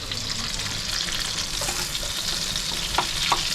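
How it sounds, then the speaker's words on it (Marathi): Two heaped spoons of butter melting in a hot pan, with a dense steady sizzle up close and a few light scrapes near the end. "आता मी इथे 2 चमचे बटर टाकलाय, फुल चमचा भरून टाकले"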